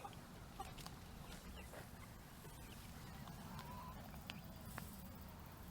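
Hens and young chicks in a backyard coop in Deep South Texas give soft, scattered clucks and short calls over a steady low outdoor rumble, faint and fairly distant, with no talking.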